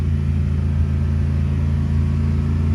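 A 2017 Ford F150 5.0 V8, having its coolant system purged, is held at a steady raised idle around 3,000 RPM, giving a loud, constant droning rumble with a firm low hum and no variation or talk.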